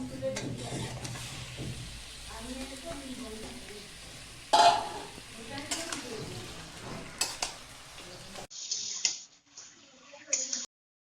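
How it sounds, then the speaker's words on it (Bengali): Meat tipped into a pot of deep-fried onions for kosha mangsho, sizzling and stirred with a few sharp clatters; the sizzle and stirring are steady and fairly near, then cut off abruptly near the end. "এখন আমি মাংসগুলো দিয়ে দেবো, ঢেলে দিয়ে দেবো বন্ধুরা।"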